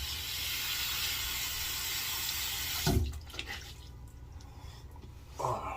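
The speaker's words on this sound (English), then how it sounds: "Go ahead and rinse her down." Water from a faucet runs steadily into a sink to rinse a razor after shaving, a close hiss that cuts off about halfway, followed by faint drips and a brief splash.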